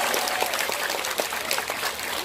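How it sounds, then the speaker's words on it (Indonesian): Applause from an audience at an Indonesian comedic religious lecture in Taichung, Taiwan, dense steady clapping held for the full stretch, fairly near, with no voices over it. "Saya minta tepuk tangan dulu dong buat panitia kita luar biasa."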